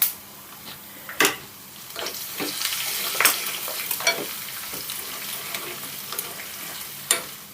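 Dried red chillies crackle in hot tempering oil along with crushed small onions and cumin, a steady low sizzle broken by a few sharp pops and spits.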